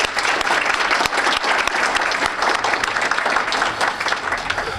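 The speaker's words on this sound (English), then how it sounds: "Let's give her a round of applause." Audience applause at a Saint Paul police civilian review commission meeting honoring a staff member's years of service, a loud, dense, sustained roar of many hands clapping from start to finish.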